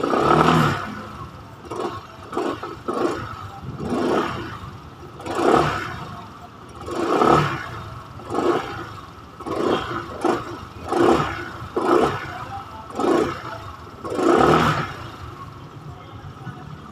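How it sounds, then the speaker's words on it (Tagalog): A 2025 Skygo Lance 150 motorcycle is revved in repeated short bursts during an exhaust sound check, each throttle blip rising and falling in a steady rhythm, loud and close with no talking. "Pakinggan natin kung ano yung sound check niya, tambucho niya, kung gaano katahimik yung kanyang makina."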